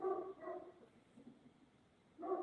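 Dog barking from a distance, a few muffled woofs, two close together at the start and another after a pause, faint against quiet background.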